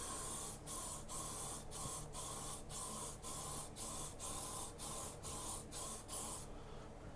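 PlastiKote woodstove spray paint hisses from an aerosol can onto a fire pit in about eleven short, evenly spaced bursts separated by brief pauses, close and fairly quiet, with no voices.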